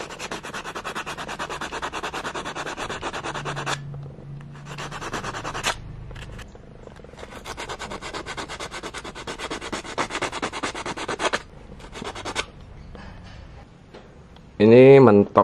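Rapid scratchy rasping of sandpaper rubbed back and forth up close on a motorcycle chassis part, coming in several long strokes with short pauses between them.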